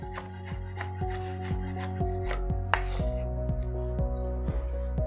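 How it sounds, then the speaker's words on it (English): A knife chops fresh dill on a cutting board in a home kitchen, a steady run of close, crisp board strikes about twice a second, evenly spaced and continuing without pause. "We're gonna chop this up. And now some dill."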